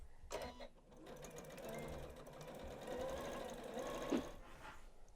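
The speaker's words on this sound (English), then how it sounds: "now I'm going to pick up about 6 inches farther down and back stitch again" A Janome sewing machine runs continuously, back stitching a seam on a fabric bag, with a steady close mechanical whir and a brief louder clack near the end.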